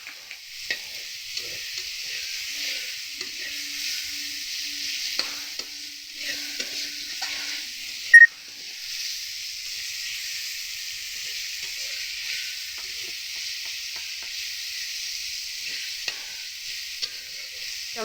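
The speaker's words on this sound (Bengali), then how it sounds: "মশলাটা যখন কষানো হচ্ছে" Masala spice paste for a gugli snail recipe fries in a pan with a steady, bright sizzle throughout. Faint scrapes and taps from stirring come through now and then, with one sharper knock midway.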